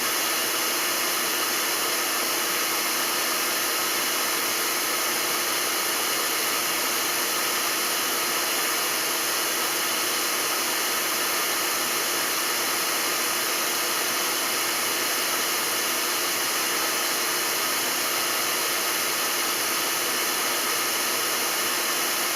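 Hair dryer blowing hot air during a homemade propulsion experiment, a steady broadband whoosh with a constant motor hum held evenly for over twenty seconds, fairly close and with no talking.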